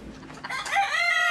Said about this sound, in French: Voici la poule Serama, la plus petite variété au monde.